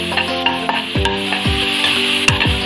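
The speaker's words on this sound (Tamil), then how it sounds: "இஞ்சி பூண்டு, அதையும் சேர்த்து நம்ம நல்லா வதக்கிடுவோம்." Green chili and ginger garlic paste sauté in a pan for fish cutlets, with a steady loud sizzle and repeated stirring scrapes and taps close by.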